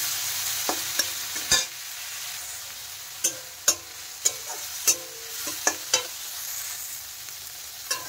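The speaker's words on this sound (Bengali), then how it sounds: "নেড়ে চেড়ে কিন্তু চিংড়ি মাছগুলো ভালো করে ভেজে তুলে নিতে হবে।" Prawns frying in oil with salt and turmeric, stirred in the pan: a steady quiet sizzle broken by a series of sharp spatula scrapes and clicks at an irregular rhythm, with no talking.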